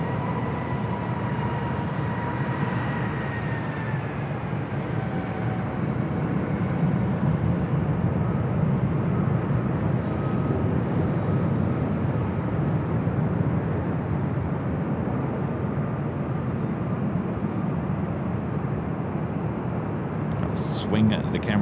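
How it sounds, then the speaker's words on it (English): A Southwest Airlines Boeing 737-800 arriving at LAX, a distant, steady jet engine rumble and whine that holds throughout, with a voice talking over it and a brief sharp noise near the end. "Next arrival is Southwest Airlines Flight 3791 coming in from St. Louis, 737-800"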